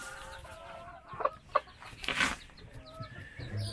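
Soft chirps and clucks from Sultan chicken chicks nearby, a few sharper peeps standing out over a quiet background.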